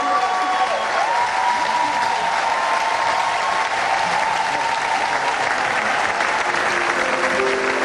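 A church congregation claps and cheers in a dense, continuous wall of applause, loud and close throughout, with a sustained voice or tone riding faintly above the crowd.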